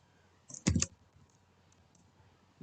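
A short cluster of computer keyboard clicks as Python code is typed, a quick burst of a few keystrokes followed by near silence, close and fairly quiet with no voices.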